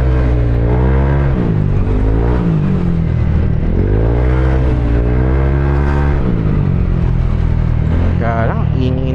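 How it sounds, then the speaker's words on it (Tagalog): A Yamaha Aerox 155 scooter with an open exhaust revs loudly and close by, its pitch rising and falling in repeated throttle sweeps, with a voice briefly audible over the engine. "Kaya lang ingay nung exhaust ano."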